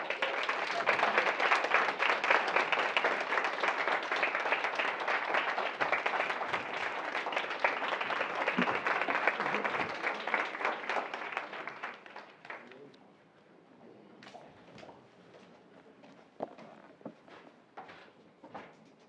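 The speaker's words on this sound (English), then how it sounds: "please give another round of applause for Mr. Washington." An audience applauds at the close of a university lecture, with dense, loud clapping that runs steadily for about twelve seconds and then fades to a few scattered claps and faint room sounds.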